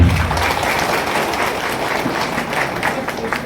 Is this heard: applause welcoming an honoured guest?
yes